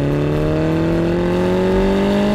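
A Mini John Cooper Works engine drones loudly and continuously through its opened sports exhaust, its pitch climbing slowly as the revs build, with a throaty exhaust tone.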